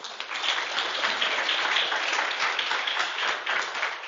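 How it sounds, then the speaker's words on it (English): A meetup audience claps in a steady round of applause, a close, even patter of many hands that continues throughout without any voices. "One more round of applause."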